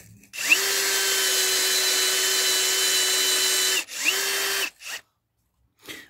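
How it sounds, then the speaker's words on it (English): A wire brush spinning against a Rover K series engine cam cover, a steady loud whine for about three seconds, then a shorter second burst and a brief final touch, with no talk. "We're there just giving it a little bit of a wire brush as well"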